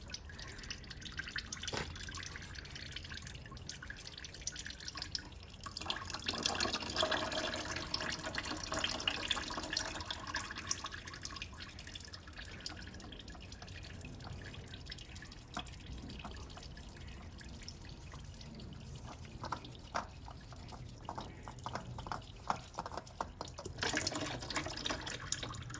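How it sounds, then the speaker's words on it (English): Engine oil draining from a 2004 Nissan Micra K12 into a drain pan, a faint steady trickle and dripping with occasional small splashes, no talk. "And oil will come out of there, so make sure you have your oil pan sitting underneath."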